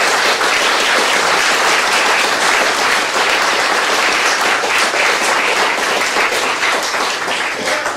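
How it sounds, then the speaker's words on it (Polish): Dense, loud applause from a large audience at an outdoor Chopin concert by the Bug river, a continuous wash of clapping that holds steady throughout. "Wielkie brawa!"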